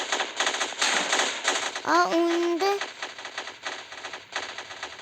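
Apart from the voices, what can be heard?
gunfire in video game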